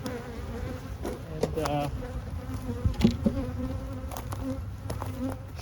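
Honeybees buzz steadily around backyard hives on a hot day, a dense close hum with individual bees flying past, and a man's brief word is heard under the buzzing.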